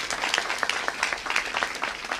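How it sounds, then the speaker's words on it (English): An audience applauds Illinois state representatives Moeller and Morgan at a governor's event on healthcare protections. The clapping is dense and steady, a crowd's sustained applause with no voices over it. "Can we give them a round of applause"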